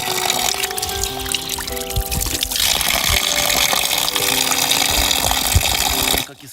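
Cold spring water trickles and splashes steadily in Montenegro, a continuous close stream that runs evenly before cutting off abruptly near the end.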